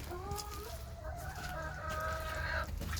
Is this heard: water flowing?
no